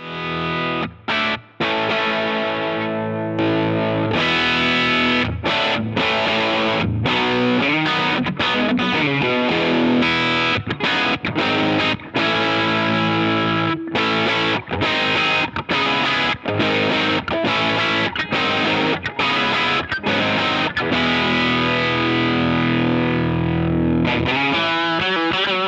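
A boutique handbuilt guitar effects pedal drives a distorted electric guitar through chords and riffs, loud and continuous for about 25 seconds with brief choppy breaks, alone with no voices.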